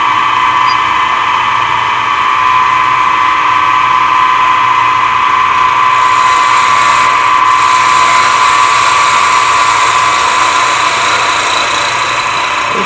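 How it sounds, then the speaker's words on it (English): A wood lathe spins hard material while a skew chisel shapes a cone like a finial, giving a loud, steady high-pitched whine that holds unbroken throughout. "Probably I'll switch to my skew chisel."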